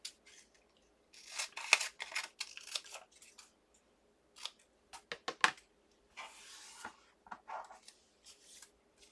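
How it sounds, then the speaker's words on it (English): Scissors snip through paper for a gift card tag, a quiet series of short crisp cuts in bursts with pauses between them and no talk. "I'll cut another piece."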